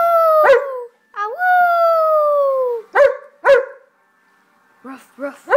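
A dog gives high-pitched, puppy-like yelps and a drawn-out whining howl, then several short, sharp barks and softer yips, all close and loud with brief pauses between.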